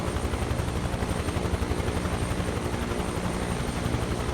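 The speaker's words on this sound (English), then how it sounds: "this is the helicopter for this" A loud, steady helicopter rotor thrum in Microsoft Flight Simulator with a continuous chopping pulse, close and unbroken, no voices.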